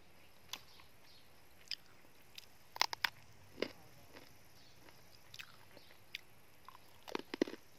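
Durian is eaten up close, with faint, sparse, soft chewing clicks and squishy bites scattered over near-silence.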